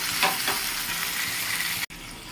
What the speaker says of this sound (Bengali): এবার একটু জাস্ট কষিয়ে নেব সবজিগুলো আর সর্ষেটা দিয়ে কষিয়ে নেব।